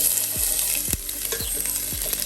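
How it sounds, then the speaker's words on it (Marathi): Sliced onion frying in hot oil for Kabuli pulao crackles with a loud, close, continuous sizzle, while a spatula knocks and scrapes the pan about four times at an even pace. "आणि कांदो घालून भाजून घेवया."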